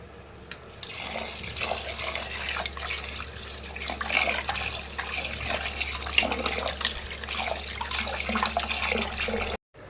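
Water splashing and sloshing close by as mutton pieces are rinsed with turmeric, a steady churning wash of running water with hand-stirred surges, no talk, ending abruptly.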